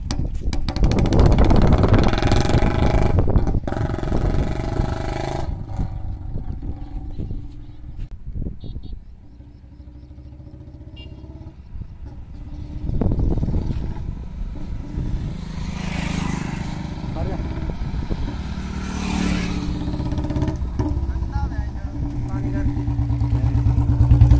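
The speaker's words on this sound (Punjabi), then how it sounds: "ਧੋਣ ਕਰਕੇ ਬੰਦ ਹੋ ਰਿਹਾ ਇਹਦਾ ਮੋਟਰਸਾਈਕਲ ਬਾਈ" A Bullet motorcycle with a BS6 or BS4 exhaust, stalling after being washed, idles and revs unevenly with rising and falling engine roars under close speech.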